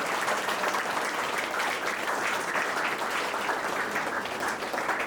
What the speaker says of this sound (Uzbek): Qarsakinglar.